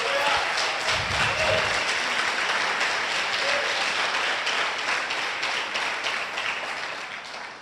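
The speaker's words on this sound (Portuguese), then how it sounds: "Aplauda o Senhor Jesus, então." A church congregation claps together in sustained applause during a Carnival-season service, the dense clapping steady and fairly loud throughout, thinning slightly toward the end.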